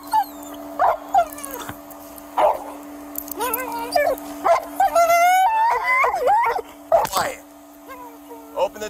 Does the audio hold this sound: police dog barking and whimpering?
yes